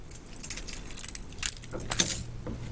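A bunch of keys dropped in free fall, jangling and clattering in a few metallic bursts before settling, fairly close, with no talk over it.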